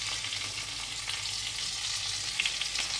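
Parasol mushroom cutlets, breaded like pork schnitzel, frying in hot fat in a pan: a steady close sizzle and crackle with a few louder pops, no voices.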